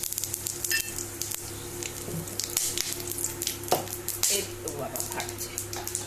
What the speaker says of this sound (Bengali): এর মধ্যে আমি এবার ফোড়নগুলো দিয়ে দেবো